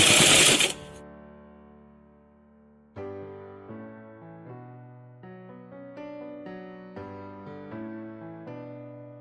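A sewing machine stitching a sleeveless umbrella frock, starting after a brief burst of noise and then running in a close, steady whirring hum broken into short stitching runs.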